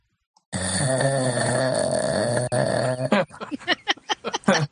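A voice imitates loud snoring with long, rumbling breaths, then breaks into short, choppy grunting sounds.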